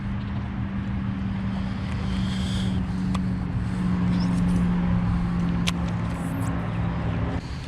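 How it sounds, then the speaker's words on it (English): Steady low rumble of urban road traffic runs beside a city fishing bank, a constant broad wash with a few faint clicks and bumps over it, continuous and moderately loud, with wind noise mixed in and no clear voices. "Hear all the traffic and the people and the bicycles"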